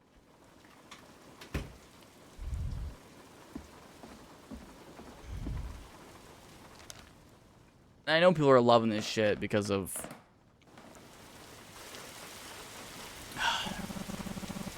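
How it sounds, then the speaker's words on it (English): Heavy rain pours steadily outside an open window with a rumble of thunder, heard as a constant wash beneath a person talking close by, with a louder burst partway through. "It's really pouring out there."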